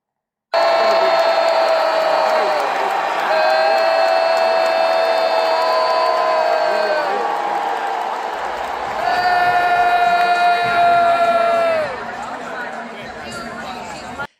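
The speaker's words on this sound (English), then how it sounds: "Sophie Cunningham getting booed as she checks in to the game" Arena crowd at a women's basketball game booing Sophie Cunningham as she checks in, a loud sustained roar of voices and chatter with long drawn-out tones swelling twice, steady and close throughout.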